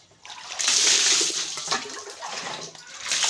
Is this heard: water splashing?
yes